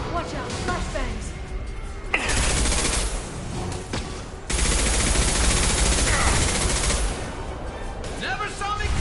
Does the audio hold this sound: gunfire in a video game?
yes